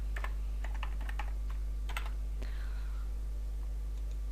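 Typing on a computer keyboard, a series of light key taps in short irregular bursts, fairly quiet over a constant low hum.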